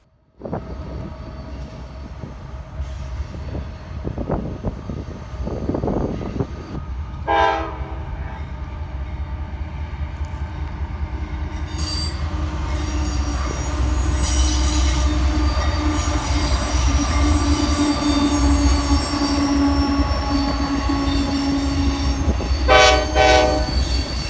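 A long CSX freight train, likely hauling wet rock phosphate in open cars, rumbles past with steady wheel noise and squealing, while a loud horn blasts twice, early and again near the end.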